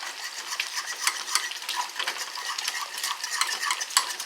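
A spoon stirs butterscotch sauce with heavy cream in a small pan on the stove, giving a steady, close scraping and gentle bubbling that runs through the whole stretch without any talk.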